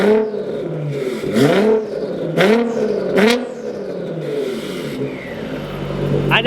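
A Chevrolet Corvette C8 engine revs repeatedly, several sharp rising blips close by with rapid pitch sweeps, then settles toward a steadier idle.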